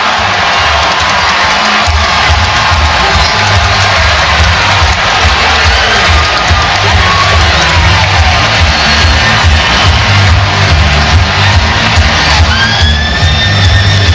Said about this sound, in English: as you can hear from the roar of the crowd here